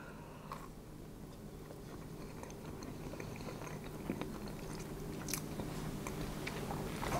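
Soft bites and chewing of a chocolate cherry kladdkaka studded with glacé cherries, quiet crunchy mouth sounds repeating close up without any talking.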